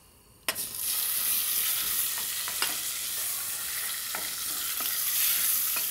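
Pork dropped into hot oil for a curry, bursting into a loud, sustained sizzle right after an initial hit, with occasional stirring clicks over the steady frying hiss.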